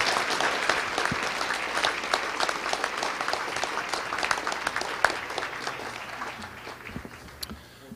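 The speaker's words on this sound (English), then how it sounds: "a round of applause for these academic award recipients" A hall audience applauds academic award recipients at a 2012 education foundation ceremony: sustained, crowded clapping with sharp individual claps standing out, fading slightly toward the end.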